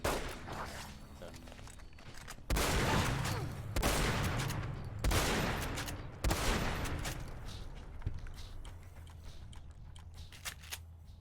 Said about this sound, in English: Shotguns are very effective against ghouls.